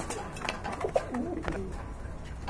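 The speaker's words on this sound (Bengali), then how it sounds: "খুবই সুন্দর আরেক জোড়া গাজী মডার্না কবুতর" Gazi Modena pigeons coo softly, a few faint low murmurs and short calls close by, with quiet background noise and no talk.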